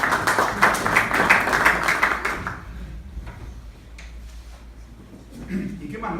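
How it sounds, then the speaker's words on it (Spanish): Brief applause from an audience at a value investing talk, a couple of seconds of clapping that fades out, followed by quieter room sound and some talk. "Otro aplauso."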